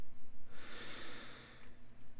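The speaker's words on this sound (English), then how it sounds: "And of course, more breathing sounds." Close, soft breathing, with one longer exhale that swells and fades, a faint sniff and a hum in the background.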